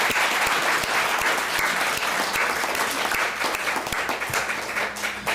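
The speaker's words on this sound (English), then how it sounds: "We can applaud him." School board meeting audience giving applause, loud and close, a sustained dense clatter of clapping with a few sharper individual claps, tapering slightly near the end.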